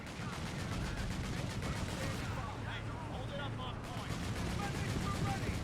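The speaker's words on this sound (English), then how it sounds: "Anti-tank gun for sure." Battle sounds in Company of Heroes 3, with an anti-tank gun firing amid continuous rumbling explosions and crackling small-arms fire, steady and dense throughout.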